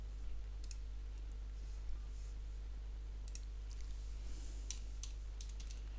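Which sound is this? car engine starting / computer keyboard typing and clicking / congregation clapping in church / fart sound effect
computer keyboard typing and clicking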